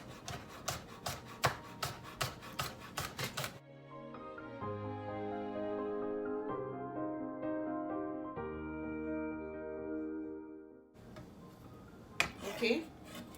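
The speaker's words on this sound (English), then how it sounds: "I'm going to cut 2 stalks of green onion and we're gonna do everything nice and as thin as possible" A knife taps quickly on a cutting board while thinly slicing green onion stalks for a Jamaican stuffed fish, then music takes over before the rapid chopping returns.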